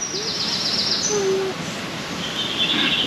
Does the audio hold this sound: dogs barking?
no